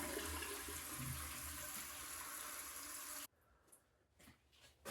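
A Glacier Bay toilet flushing loudly up close during a rag test, a steady rushing gush that cuts off abruptly and gives way to quiet gurgling siphon sounds.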